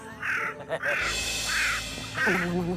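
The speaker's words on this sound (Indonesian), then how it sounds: "Dengar nggak? Kayak ada suara burung gagak ya bang." A crow cawing in a nighttime scene from an Indonesian TV drama: several harsh, nasal caws spaced about a second apart, fairly close and clear, with a person speaking briefly among them.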